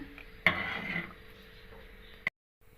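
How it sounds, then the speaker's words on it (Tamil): A spoon scrapes and clatters against a pot of thick millet and ragi porridge cooking over full flame, one burst of stirring followed by a quieter bubbling stretch and a single sharp knock near the end. "இப்போ ஃபுல் ஃப்ளேமில் வச்சு நல்லா கிண்டி விட்டுட்டே இருங்க."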